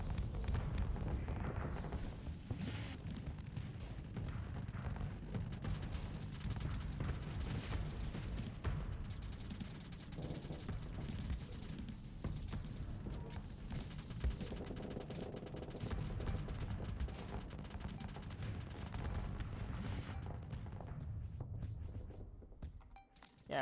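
Reaper missiles and weapon fire in the space combat game Starsector roll in a continuous dense barrage of rumbling blasts and rapid fire, loud and sustained before dropping away at the end.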